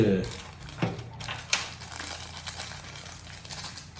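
Packaging for a Hollyland Lark M2 wireless mic being handled as a sticker is peeled off, giving soft crinkling and tearing rustles close by, with a brief sharper rip early on.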